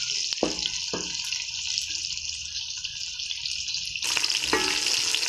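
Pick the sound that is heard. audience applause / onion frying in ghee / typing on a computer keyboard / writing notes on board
onion frying in ghee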